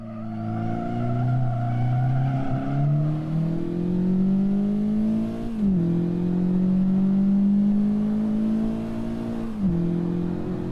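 Honda race car in the Assetto Corsa video game, engine droning and rising in pitch with two sharp downshift blips, revs falling then climbing again, steady and close throughout.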